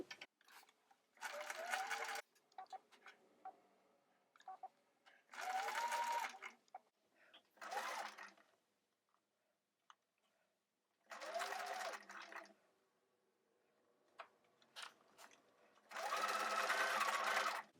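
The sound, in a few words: sewing machine sewing princess seams on bodice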